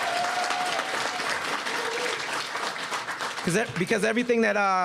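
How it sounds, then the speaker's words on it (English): An indoor crowd at a union ribbon-cutting ceremony gives a sustained round of applause for support staff, a thick wash of clapping that fades as a speaker's voice takes over near the end. "Please give them a round of applause"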